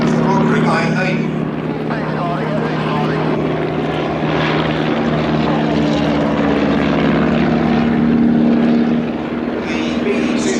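World War 1 aircraft in a turning dogfight at an air display, a continuous loud propeller engine drone with shifting pitch as the planes maneuver, under a commentator's voice over the public address.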